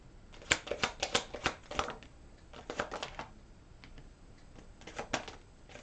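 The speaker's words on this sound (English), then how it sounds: "Let me take out the rest of these cards." Tarot cards being pulled from a deck and shuffled, with a run of quick, crisp riffling flutters in bursts near the start, a second cluster midway, then a few lighter flicks, close and fairly quiet with no talk.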